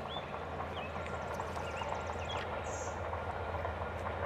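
A passing VIA Rail passenger train rumbles steadily with a continuous heavy drone and faint high squeals, a P42 diesel locomotive rolling by at close range.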